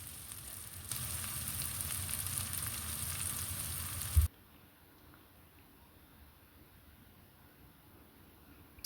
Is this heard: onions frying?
yes